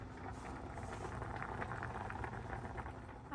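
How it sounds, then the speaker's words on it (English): Eggs and potatoes boil in a pot on a cabin stove, giving a steady, quiet bubbling and hissing that runs evenly throughout without talk. "I'm boiling some eggs and some potatoes."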